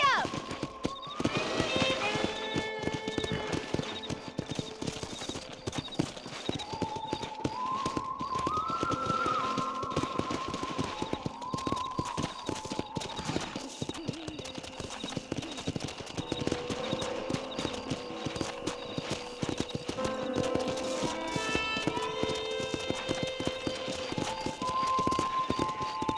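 Hooves clip-clop in a steady gallop from a horse in the video game Red Dead Redemption, heard under game music with a neighing horse and voices now and then.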